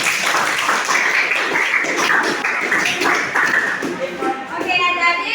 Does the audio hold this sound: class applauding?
yes